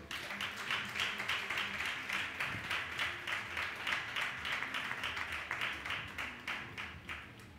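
A church congregation applauding together during a sermon, steady dense clapping that holds evenly throughout and fills the room.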